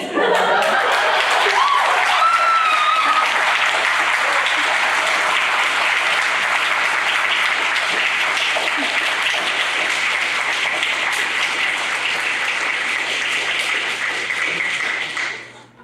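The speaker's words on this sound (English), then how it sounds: "Another round of applause for our fabulous readers" An audience at a college senior reading series gives the student readers sustained applause. Dense, even clapping runs for about fifteen seconds before cutting off.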